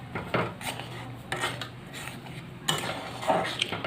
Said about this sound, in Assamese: এতিয়া মই ধুনীয়াকৈ লৰাই দিম।